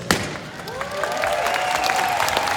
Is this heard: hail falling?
no